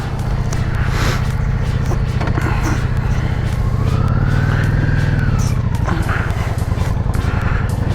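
A motorcycle engine drones steadily at close range while the bike rolls along quieter roads in Michigan, holding a loud continuous rumble whose pitch rises and eases once mid-ride.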